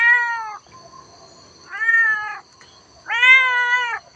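A cat at a Thai temple meows three times, each call clear and drawn out with a short pause between, close by with a steady faint whine in the background.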